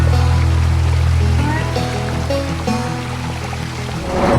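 The North Platte River in Wyoming flows with a steady broadband rush of water, a continuous close wash with a faint low hum beneath and no speech.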